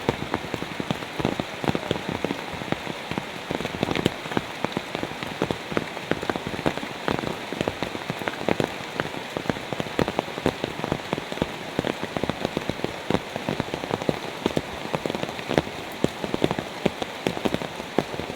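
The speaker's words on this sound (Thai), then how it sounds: "แต่ตัวนี้ฝนตกหนักครับ" Steady heavy rainfall drums on surfaces outdoors during a frog-hunting trip with a cast net, a thick unbroken patter up close with no voices.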